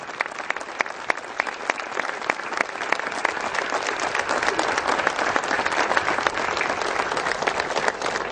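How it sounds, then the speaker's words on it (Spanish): Sustained, dense applause from a church audience welcoming the visiting Bishop of La Rioja, steady crowd clapping that swells slightly and continues throughout without pause. "Le damos un fuerte aplauso al Padre Dante, Obispo de La Rioja."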